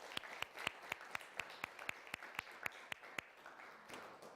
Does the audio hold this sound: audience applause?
yes